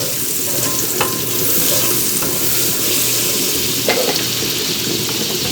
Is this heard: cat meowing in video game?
no